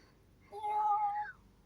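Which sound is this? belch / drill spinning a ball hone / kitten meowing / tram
kitten meowing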